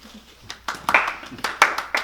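Scattered hand claps from a theatre audience honouring a generous donor at a charity auction in a stage play, sparse and uneven, building into a few sharper bursts.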